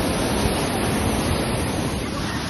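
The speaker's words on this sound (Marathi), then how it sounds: "धबधबा आहे" Steady, loud rushing roar of a waterfall near a hillside temple, a continuous broadband wash of falling water with no breaks and no voices.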